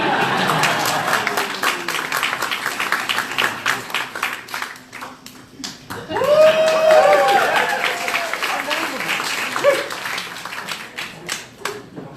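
Audience applause at a magic and mentalism show, a broad wash of clapping that carries through most of the stretch, with a voice speaking over part of it.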